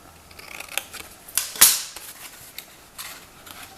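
Scissors snipping paper while a treat box is made: a few quiet snips and one sharp, close cut standing out in a quiet room.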